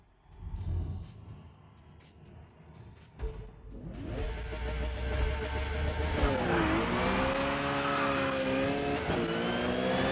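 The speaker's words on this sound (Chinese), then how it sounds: "今天我们驾驶保时捷911 RSR 赛车征战大像素赛道。" Porsche 911 RSR race car in the Forza racing game, its engine rising from a low idle rumble into a loud, sustained rev with climbing pitch as it accelerates away from a race start, continuous and close.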